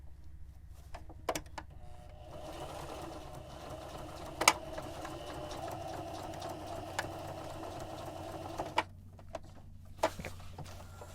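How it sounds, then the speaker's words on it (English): A sewing machine stitches a straight 5/8 inch seam on a custom cover for an Olympian Wave 3 heater, a steady quiet whir running throughout, broken by a few sharp clicks and taps. "now we're just sewing the other side, and it's just a straight 5/8 inch seam"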